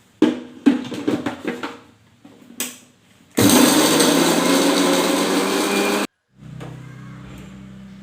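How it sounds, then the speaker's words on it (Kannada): A mixer grinder whirs loudly at close range for a few seconds as it grinds jaggery and spice powder, preceded by clattering and knocks of handling and followed by a lower, steadier hum. "ಈಗ ಒಂದು ಸ್ವಲ್ಪ ಮಿಕ್ಸಿ ಹಾಕ್ಕೊತೀನಿ ರೀ"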